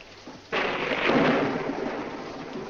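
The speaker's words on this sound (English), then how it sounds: "When there's thunder, lightning." Thunder breaks with a sudden loud crack, then a long rolling rumble that slowly fades, heard alone without voices.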